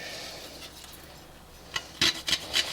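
Frozen chilli is grated into a thick sauce, heard as a few short, close scraping strokes against a grater after a quiet stretch, with no talking.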